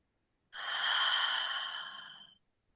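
A single long, steady exhale released after a deep breath in through the nose, breathy and close during a calm relaxation exercise, rising quickly and fading out after about two seconds with no talking.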